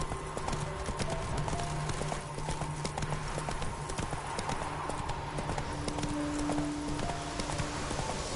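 Roach, Geralt's horse in The Witcher 3, trotting with a steady, even clip-clop of hooves up close, a faint whinny and background game ambience running underneath.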